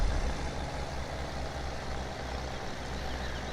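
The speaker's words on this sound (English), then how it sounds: "this tractor, this New Holland here" A New Holland tractor engine in Farming Simulator 17 drones with a continuous heavy low rumble, steady and fairly loud, with no talk over it.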